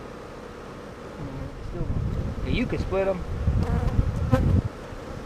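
Honey bees hum in a dense, steady drone at an open hive being checked for a split, close by, while someone talks over the buzzing.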